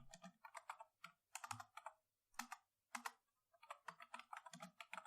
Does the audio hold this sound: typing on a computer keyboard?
yes